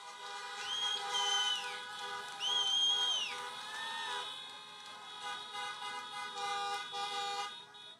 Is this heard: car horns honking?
yes